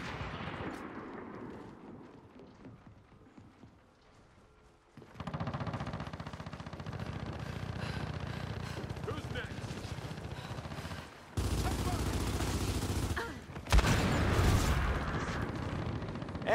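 Boomshot explosive launcher fire in a Gears of War 4 beta match against bots, heavy booming blasts and sustained gunfire-like rumble after a quieter start, with a sharp loud burst near the end.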